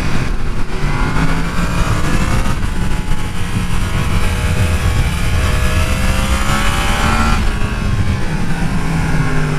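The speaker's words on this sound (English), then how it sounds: "it's the sound of the motor on this thing. It just sounds like a sport bike." A loud Yamaha MT-10 sport motorcycle engine revs and roars continuously, pitch rising and falling with throttle, close and dominant throughout.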